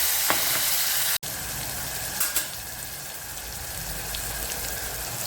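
Garlic and chillies frying in hot oil with curry leaves in a pot, a steady close sizzle with a sharp sputtering burst near the start and a brief pop midway.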